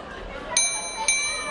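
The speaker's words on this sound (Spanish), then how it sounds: "Y ahí la campana." Boxing round bell at a Super Flyweight bout between Guadalupe Martinez and Yulihan Luna: two bright metallic rings about half a second apart, cutting through crowd chatter and arena noise.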